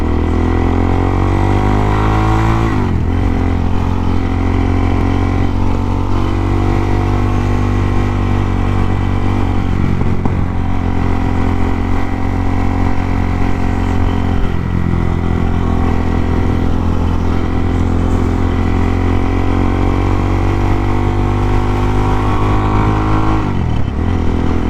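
A Suzuki DRZ400 motorcycle engine runs loud and steady at close range with a deep, continuous rumble. A few brief revs shift its pitch, and no one speaks.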